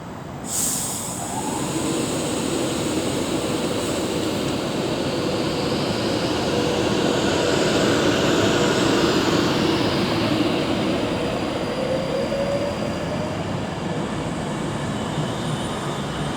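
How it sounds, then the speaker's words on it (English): Avanti West Coast Class 390 Pendolino, unit 390 121, departing Milton Keynes Central on the West Coast Main Line for London Euston: a loud, sustained rumble and electric whine build steadily, with no talking. "now getting ready to depart with 390 121 with the 1217 Avanti West Coast service to London Euston"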